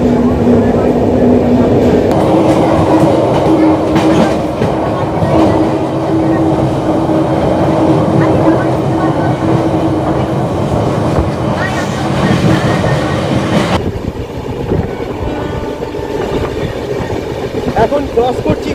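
A Kolkata to Puri Janshatabdi Express, train 12074, runs steadily past Kolaghat toward Panskura with a loud continuous rumble and rattle of carriages on the rails, heard from inside and sustained throughout.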